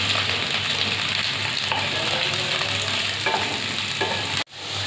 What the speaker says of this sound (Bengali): আলুটা ভাজা হচ্ছে, এখনো হয়নি আলুটা